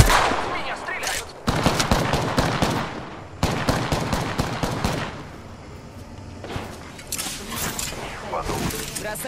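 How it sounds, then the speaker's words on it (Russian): Rapid bursts of automatic gunfire from an Apex Legends match, loud and close, come in repeated volleys with short gaps and a quieter stretch midway, with a voice speaking over the shooting. "Меня стреляют!"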